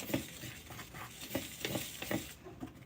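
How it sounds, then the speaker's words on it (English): A whisk stirs dry brownie ingredients together in a bowl, producing soft, rhythmic scraping and tapping strokes at a quiet level, heard alone. "we're going to take our whisk and we're going to mix our dry ingredients together"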